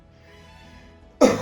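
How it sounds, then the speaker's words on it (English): After a near-silent pause, a person with bronchitis lets out a single sharp cough up close. "I'm coughing a lot"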